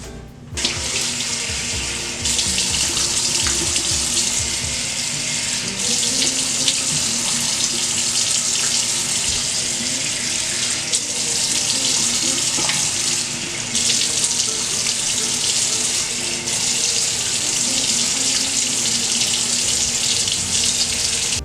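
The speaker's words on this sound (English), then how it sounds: "wash my face with warm water to open up my pores" Warm water runs steadily from a bathroom tap into a sink during face washing, a continuous close, loud gushing splash that lasts throughout with no talking.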